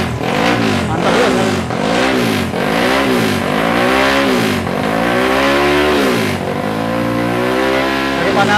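A racing engine revs while warming up, loud and close, in a rhythmic series of rising and falling throttle blips before it settles into a steadier high drone.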